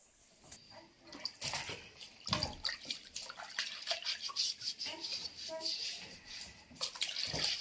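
A jar for Dong-style pickled sour fish is washed and scrubbed by hand with water in a rural Hunan kitchen, giving close splashing and brushing sounds with a faint voice talking underneath.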